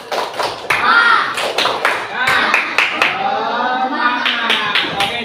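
A group claps together in a rhythmic pattern of sharp bursts, with chanting voices joining in between the claps.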